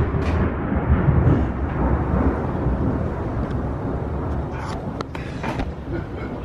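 Low, sustained thunder rumbles heavily and steadily through the whole stretch, loud and broad with a slight swell near the start, recorded outdoors in Austin, Texas, with no voices.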